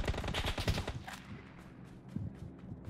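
Rapid bursts of gunfire in the battle royale mobile game New State Mobile, a dense volley at the start fading to scattered, fainter shots.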